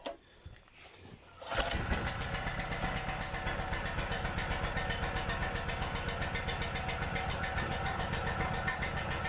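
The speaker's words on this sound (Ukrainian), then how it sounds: "Зараз побачимо новий генератор, з якого разу заведеться." A new ED PT 3500 petrol generator fires up after a brief pull and quiet moment, then settles into a steady, evenly pulsing small-engine run, close by and continuous, with no one talking.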